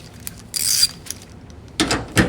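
A ratchet snugs down a bolt on a back-up camera mount of a second-generation Toyota Tundra TRD Pro, giving two short bursts of clicking separated by quiet, close and fairly loud with no talk.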